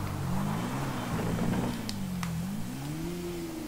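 Car engine in GTA 5 Online, a steady droning hum whose pitch sinks and then climbs again as the vehicle slows and accelerates, heard alone at moderate volume.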